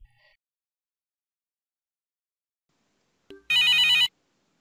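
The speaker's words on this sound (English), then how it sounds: "I notice that there is an incoming call notification on the CTI widget." An incoming call notification on an SAP Service Cloud CTI widget plays as one short, bright electronic ringtone burst of about three-quarters of a second near the end, following a faint click, in otherwise quiet surroundings.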